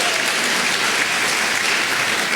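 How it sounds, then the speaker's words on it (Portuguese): A church congregation breaks into loud, continuous applause, a thick even roar of many hands clapping throughout with no pauses. "Dá uma salva de palmas ao Senhor"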